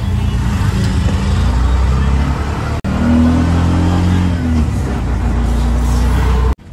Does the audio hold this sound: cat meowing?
no